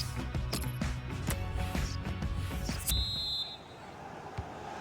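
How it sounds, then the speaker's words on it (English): Referee's whistle blows for half time in a FIFA 18 football match at Old Trafford, a short shrill blast cutting through dense stadium crowd noise and game sounds. "And there goes the whistle for half."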